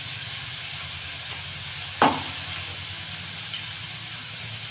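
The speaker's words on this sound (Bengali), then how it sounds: "শিমটা ভেজে নেব।" Broad beans frying in a pan in a village kitchen, a steady sizzling hiss running throughout with a single sharp clink or knock near the middle, no talking.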